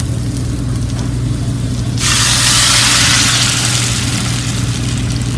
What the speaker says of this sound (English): That's a happy sound for us. That little sizzle